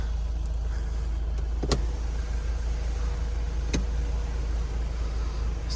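The panoramic sunroof of a Honda CR-V 2.2 diesel opens with a steady, quiet electric motor whir inside the cabin, broken by a couple of sharp clicks.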